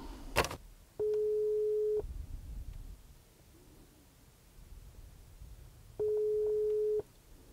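Door entry intercom signalling after a code is dialed, two long steady tones about a second each, separated by several seconds of quiet hiss, close and moderately loud with a short click at the start.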